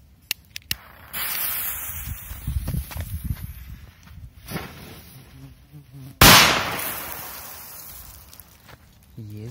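A P2000 firecracker set in sand goes off in one sharp, loud bang partway through, after a hissing fuse and scattered handling noises and footsteps, with a decaying rumble afterward.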